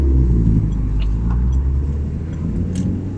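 A tuned Citroën C2 VTS engine rumbles steadily at idle, deep and loud up close, with a low throbbing exhaust note and faint clicks above.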